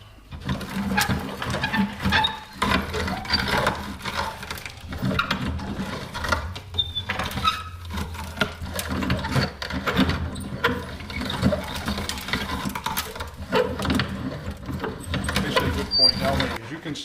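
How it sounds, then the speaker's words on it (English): A hand-cranked meat grinder grinds chaga fungus with rough, uneven mechanical crunching and ratcheting that keeps going throughout, with birds audible faintly in the background. "We're going to grind this stuff up."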